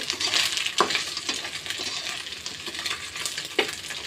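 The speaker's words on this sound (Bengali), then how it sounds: "মাছ ভাজা হয়ে গেছে" Bata fish sizzles and crackles steadily in a frying pan alongside pointed gourd, with a few sharp scraping stirs of a utensil against the pan standing out.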